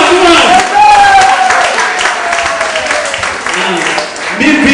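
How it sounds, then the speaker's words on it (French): Audience applause and crowd noise at a film premiere in Chicago, a steady broadband clapping wash lasting the whole stretch with a voice speaking over it. "First of all, applaudissez,"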